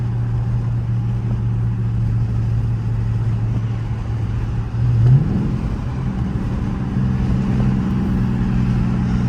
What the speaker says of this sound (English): my Charger RT being loud as hell POV drive